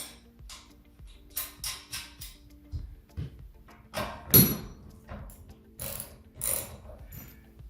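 A lock nut on a Sunny rowing machine is tightened by hand with an Allen key, producing crisp, close ratcheting clicks in short uneven bursts with small metallic knocks in between and quiet gaps around them.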